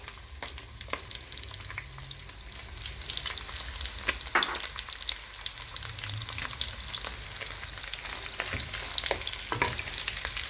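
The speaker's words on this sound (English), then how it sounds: "I'm going to add in my onions, my ginger paste, and I'm going to allow it to cook" Onions and ginger paste fry in a pan for a Kenyan-style pork wet fry, giving a continuous crackling sizzle with scattered sharp pops and occasional stirring noises, heard close up.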